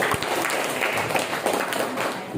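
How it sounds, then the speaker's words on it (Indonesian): A crowd at a village planning meeting claps steadily throughout, a dense, even patter of many hands with no clear breaks. "Tepuk tangan untuk beliau."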